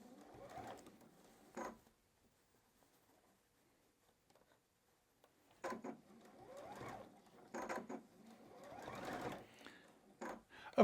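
Sewing machine stitching fabric for a chef hat, heard in short intermittent mechanical bursts separated by quiet pauses, fairly faint and close.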